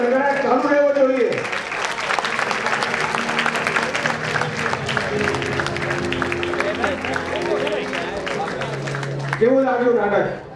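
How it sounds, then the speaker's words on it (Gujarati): An audience claps loudly and continuously for about eight seconds after a stage drama performance. A voice speaks just before the applause begins and again after it fades. "આ તાળીઓનો ગડગડાટ ચાલુ રહેવો જોઈએ."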